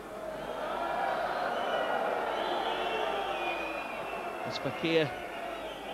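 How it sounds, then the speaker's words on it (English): Crowd at Stade Gilbert Brutus jeering a rugby league kicker during Catalan versus St Helens, 2009: a broad, steady roar of many voices held through the clip under continuous commentary, with a brief louder swell near the end. "The crowd at the Stade Gilbert Brutus doing their best to put the number 7 off."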